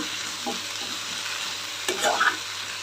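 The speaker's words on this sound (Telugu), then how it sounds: "ఆనియన్స్ పచ్చిమిర్చి అవి అందుకని కొంచెంసేపు వేపుకొని" Sliced onions and green chillies sizzle steadily in an oil-filled pan, a soft continuous frying hiss broken by a few scrapes and stirring clatters near the end.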